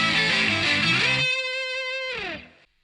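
Distorted electric guitar solo from a song, a gritty phrase ending in a sustained bent note that rises and then fades out, played alone.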